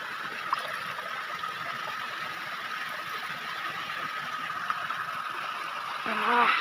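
Clear water from a mountain source runs steadily, a constant rushing flow close by that holds even throughout, swelling a little near the end as a voice briefly cuts in.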